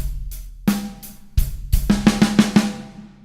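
A basic rock drum rhythm on a kit played without the quiet left-hand ghost note, a few sharp snare and kick hits followed by a quick run of strokes, close and clear with no talking.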